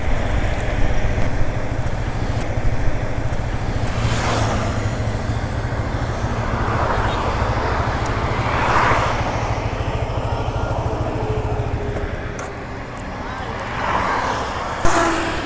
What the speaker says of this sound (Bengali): এফজেড টু ফাইভ এই বাইকটি অসাধারণ একটি বাইক